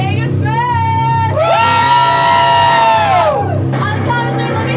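A large crowd inside a haunted house lets out a loud, sustained scream in unison, swelling up after a burst of shouting and then dropping away into more voices.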